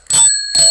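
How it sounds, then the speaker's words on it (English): A small bicycle bell mounted on a homemade sensory busy board rings twice, with two bright, metallic rings whose tones hang on briefly. The rings are loud and close, with no voices over them. "And then there's also a little bike bell"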